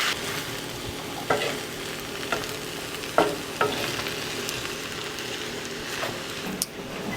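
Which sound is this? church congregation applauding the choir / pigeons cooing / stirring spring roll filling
stirring spring roll filling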